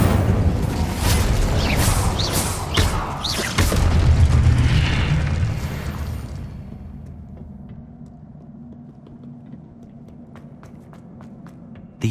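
Incendio fire spell cast in Hogwarts Legacy, a burst of loud whooshing, crackling impacts and booms over the first several seconds, fading into a quieter low hum with faint scattered ticks.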